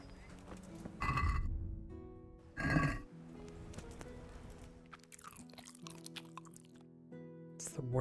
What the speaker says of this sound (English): It's the worst eating sound.